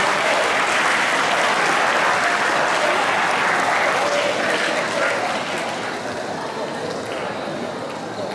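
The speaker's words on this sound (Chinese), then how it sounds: "请同学们为博乐社的准备再给他们一次热烈的掌声" Warm applause fills a hall at a Tainan Dacheng Junior High alumni homecoming as students clap for a performing club: dense, continuous clapping that holds strong, then gradually thins toward the end.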